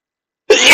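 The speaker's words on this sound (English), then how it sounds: "I need to stop sneezing." A single sudden sneeze, loud and close, bursting out after silence with a broad, breathy hiss that trails to the end.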